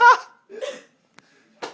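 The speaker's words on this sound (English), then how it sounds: "I have the hiccups so bad" A person with bad hiccups on a snow day lets out a few separate close, breathy bursts, one short sharp click, and one more vocal burst near the end, with quiet gaps between them and no talking.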